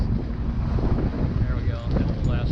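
Wind and rain buffet a sailboat out on Lake Michigan, with steady loud gusting rumble against the microphone and a constant wash of rainy, watery noise throughout.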